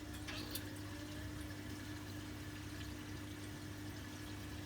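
An aquarium sump feeding pump moving water into the tank gives a steady, quiet hum under a continuous watery wash, unchanging throughout, with no voices.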